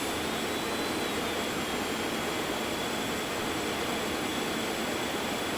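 A jet aircraft's engines drone steadily during a climb in the X-Plane 11 flight simulator game, a loud, even broadband roar with a faint high whine on top, and no voices.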